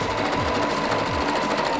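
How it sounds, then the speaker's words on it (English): Sewing machine stitching a short straight seam on a vintage smock, a rapid even mechanical chatter, loud and close, with no pause. "I'm not gonna bother to baste. I'm just gonna go for it."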